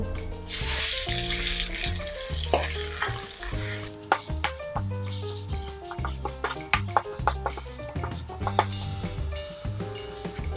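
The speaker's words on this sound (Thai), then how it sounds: "ผัดสามเกลือให้หอม" Garlic and peppercorn paste sizzles and hisses in hot oil in a pan as it is stirred, with scraping and tapping from a utensil over background music.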